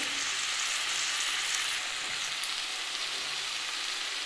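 Radish greens fry in a pan as their released water cooks off, giving a loud, dense, continuous hiss that holds steady throughout with no voices.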